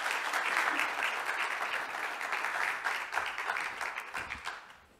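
An audience applauds steadily at a 2015 science awards ceremony, welcoming a Sabancı University professor to the stage; the dense clapping fills the hall and tapers off toward the end.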